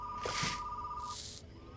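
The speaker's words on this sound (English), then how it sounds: "I wonder if the phone actually stops ringing if you just leave it be" An old telephone rings in a retro video game, two bright trilling bursts of the bell separated by a short gap, heard fairly faintly without any talking.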